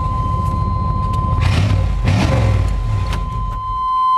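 A fuel-injected 1994 Chevrolet Suburban derby truck idles nearby with a rough rumble, then its engine is revved in two quick swells before settling back.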